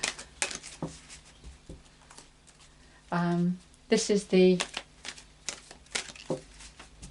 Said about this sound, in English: These cards are so big, I have to shuffle them in a slightly different way.